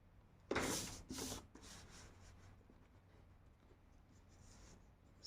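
A pen or chalk writes an equation in a maths lesson, a few quick, close scratchy strokes in a short burst, then quieter faint scribbling in an otherwise hushed room.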